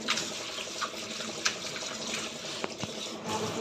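Ajwain leaves are washed in water, giving a near, continuous splashing and sloshing like running or swirling water in a basin, with a few small knocks and plops under it.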